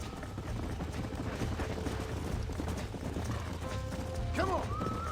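Horse in Red Dead Redemption, rhythmic clip-clop of hooves on the ground followed near the end by a clear neigh and whinny, close and moderately loud, with a voice speaking over it.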